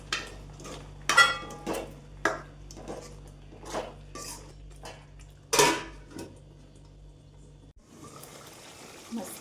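Drumstick pods (shevga) clatter into a pan of cooked masala and are stirred, with several sharp metallic clanks and scrapes over a low steady hum, then a softer sizzling texture near the end.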